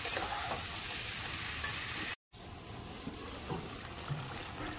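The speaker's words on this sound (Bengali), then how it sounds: "চিংড়ি মাছ আর আলু দিয়ে আবার 5 মিনিট একটু কষিয়ে নেব" Prawns and potatoes sautéing in a pan with boiled jackfruit give a quiet, steady sizzle and stirring scrapes, with a brief break in the middle.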